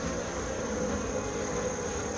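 Honeybees crowd the entrance of a hive, giving a steady, dense buzzing hum that stays even and close throughout with no pauses.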